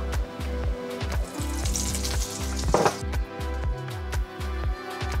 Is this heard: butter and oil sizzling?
yes